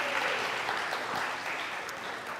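A church congregation claps together at a morning service, a steady wash of many hands that fades slightly toward the end.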